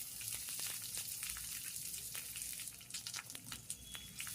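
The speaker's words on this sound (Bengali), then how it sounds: "দিয়ে ভালো করে নেড়ে চেড়ে 2 থেকে 3 মিনিট মতন আমি ভেজে নেব পেঁয়াজগুলোকে" Half a cup of chopped onions fries in a pan, giving a soft, steady sizzle with scattered small crackles and pops, quiet and close with no speech.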